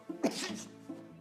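A single sharp sneeze bursts out up close, followed by a brief quieter exhale.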